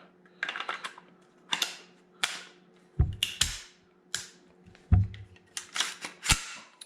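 Metal parts of a PSA JAKL 5.56mm rifle click and clack as the bolt carrier and recoil spring guide rod slide back into place, with a run of close, sharp snaps and a couple of heavier knocks.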